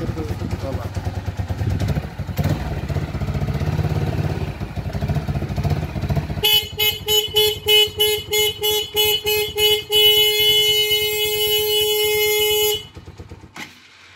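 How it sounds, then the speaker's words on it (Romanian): Horns on ATVs sound in a rapid burst of short honks, then one long sustained blast, loud and close, following a stretch of engine noise and talk. "Claxonii."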